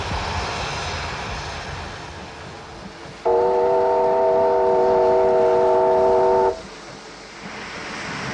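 Steam locomotive 3801 on a New South Wales rail journey: a steady rumbling run, then a loud, sustained multi-tone whistle blast lasting about three seconds before the rumble returns.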